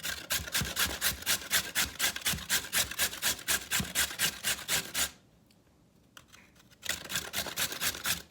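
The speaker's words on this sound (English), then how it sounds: "I have 2 carrots. I'm gonna grate them." Carrots are grated in rapid, regular rasping strokes, close and clear, with a pause of about two seconds before the scraping resumes.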